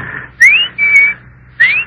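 Three short rising whistles, clear and loud, a person imitating a bird's call.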